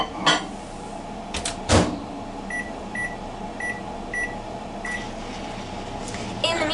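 Microwave oven running while melting a soap base, a steady hum broken by several short evenly spaced beeps near the end, with a couple of louder clunks like a door or cupboard early on.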